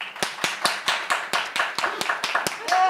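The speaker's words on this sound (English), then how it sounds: "Clap if you think it's the Annihilators." An audience claps in rhythmic, evenly spaced beats to vote during a classroom-style challenge, loud and close, with a voice speaking briefly near the end.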